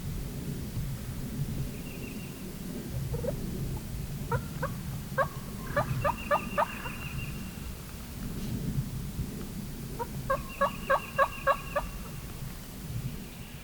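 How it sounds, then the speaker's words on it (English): Wild turkey gobblers on Mississippi public land let out rapid rattling gobbles in two bursts, mid-distance and clear over a steady rumble of wind or rain, with no talking. "There's 2 gobblers right there, and there's another one to the left."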